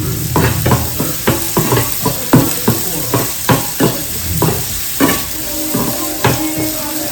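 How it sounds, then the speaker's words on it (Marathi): Onions sizzle in a pan with a little salt, frying under a steady hiss while a utensil repeatedly stirs and scrapes, producing sharp intermittent clinks and scraping sounds up close. "तर कांदा जास्त चांगला फ्राय होऊ द्यायचा आहे."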